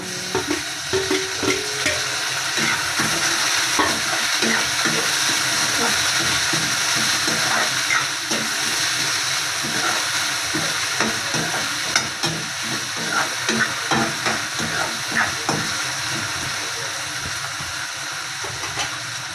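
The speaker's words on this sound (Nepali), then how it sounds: "अदरक लसुन हालेर एकछिन चलाउनु। त्यसको बादमा म टमाटर हाल्दैछु।" Tomatoes going into a pan of frying ginger and garlic, stirred with a spoon; a steady loud sizzle runs throughout, broken by repeated scraping, clattering stir strokes, with no talking.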